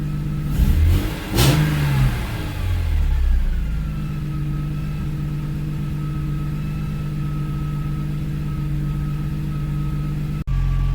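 A BMW E39 M5 with its catalytic converters removed revs sharply a couple of times up close, then settles into a steady, loud idle drone, with a brief click near the end.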